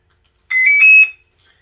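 Safety buzzer on an ArduPilot H743 flight controller in a Gee Bee Sportster RC plane sounds at power-on: a loud, clean electronic tone lasting about half a second, stepping up in pitch partway, then cutting off, with a faint chirp after.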